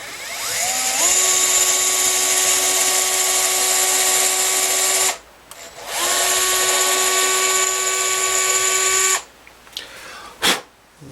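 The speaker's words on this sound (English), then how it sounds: "So I'm just going to drill this hole carefully." An electric drill bores a hole in a thin Gibson SG-style guitar body, spinning up and whining steadily in two long bursts, pitch rising as it starts, with brief pauses and a short final blip.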